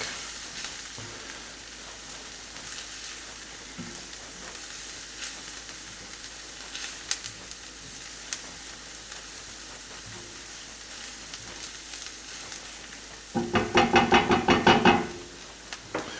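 Garlic fries in a pan with a quiet, steady sizzle and a few small knocks, swelling near the end into a louder burst of crackling before it settles.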